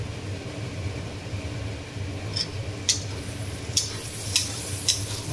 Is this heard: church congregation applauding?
no